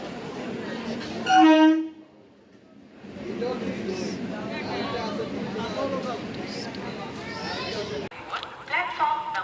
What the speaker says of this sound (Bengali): স্টেশনে বসে ট্রেনের জন্য অপেক্ষা করতে করতেই আমাদের পাস করে গেল একটা হাওড়া